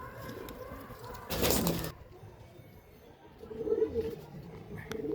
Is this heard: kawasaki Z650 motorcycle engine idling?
no